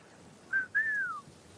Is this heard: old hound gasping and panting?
no